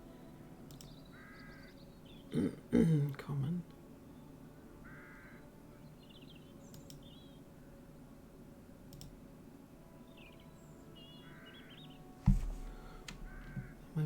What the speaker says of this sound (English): What was that sound? A crow or something.